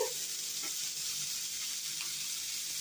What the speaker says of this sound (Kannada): ಫ್ರೈ ಮಾಡಿ ಸ್ವಲ್ಪ ಅರಿಶಿನ ಪುಡಿ ಹಾಕಬೇಕು